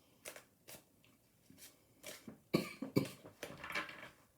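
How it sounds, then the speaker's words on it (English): A person coughs in a few short, raspy bursts close by, with quiet pauses between them and a cluster of harsher coughs near the end. "Why am I coughing?"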